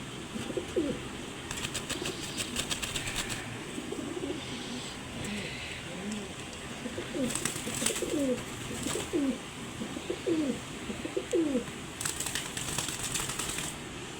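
A pair of Banja pigeons from Giribaz stock coo in soft, repeated rolling calls over steady background noise, with occasional faint rattles and clicks nearby.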